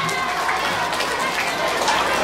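Audience applause for a singer at a live performance, a dense steady wash of clapping filling the whole moment at even loudness.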